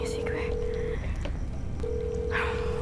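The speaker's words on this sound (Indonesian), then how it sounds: "Coba gue telepon Didot kali ya." Two long steady telephone tones separated by a gap, with faint voices and background noise underneath.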